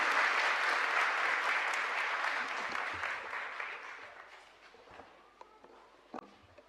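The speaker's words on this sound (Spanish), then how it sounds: "Fuerte aplauso para nuestro santo protector y patrón." Applause rings through a parish church for the patron saint, San Juan María Vianney, loud and dense at first, then thinning and fading to a few scattered claps near the end.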